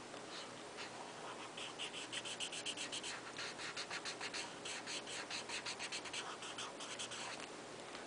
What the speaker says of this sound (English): you won't just hear the marker scraping on the paper